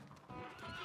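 A horse in a Red Dead Redemption roleplay session whinnies once, a brief close neigh rising out of a quiet background.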